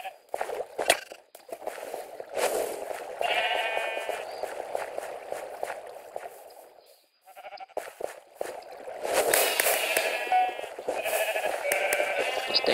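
Sheep bleating in the Minecraft minigame Sheep Quest, several wavering baa calls in bursts over gameplay footsteps and clicks, moderately loud and near, with a brief quiet gap partway through.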